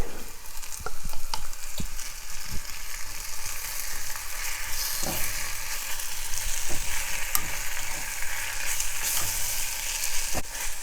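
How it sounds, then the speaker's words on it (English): Kimchi stir-frying in a hot pan for a Korean seafood kimchi soup, a steady close sizzle with intermittent scraping and clacking of a utensil stirring, no talking. "Stir fry just a little bit, get it warmed up."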